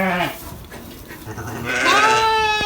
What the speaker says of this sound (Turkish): toplamda 25 tane koyunu doğurdu ee, ve 41 tane kuzusu var